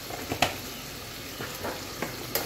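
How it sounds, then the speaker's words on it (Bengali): Chicken with red chilli powder frying in a pan while being stirred, giving a steady soft sizzle with a few light scrapes of the spoon, fairly quiet and close. "এখানে একটু নেড়ে চেড়ে নিচ্ছি আবার।"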